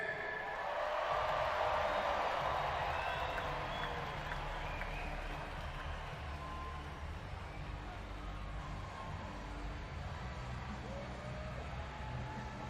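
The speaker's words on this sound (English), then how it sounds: "clap your hands, stomp your feet, make some noise for the boys" A large Monster Jam arena crowd in Brooklyn claps, stomps and cheers in one continuous, dense roar, loudest early on and easing slightly later while staying steady to the end.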